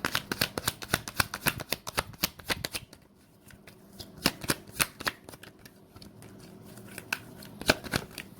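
Tarot cards shuffled by hand, a rapid series of crisp riffling flaps and slaps close up, pausing briefly midway and then resuming in scattered bursts, with no talk.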